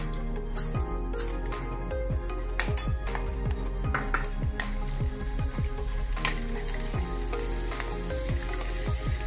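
Potato pieces and other ingredients for fasting chivda deep-frying in hot oil, a dense steady sizzle with frequent bubbling crackles and occasional utensil clinks, close and continuous.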